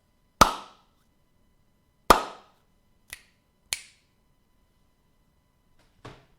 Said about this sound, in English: Let's do the clap.